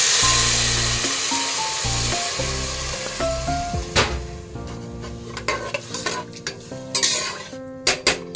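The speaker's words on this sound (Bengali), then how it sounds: "এবার এর মধ্যে দিয়ে দেবো জল।" Whole spices, black peppercorns and nearly fried onions sizzle in a pot for biryani as water is poured in, with steady loud frying hiss followed by clanking spoon stirs and metal scrapes against the pot.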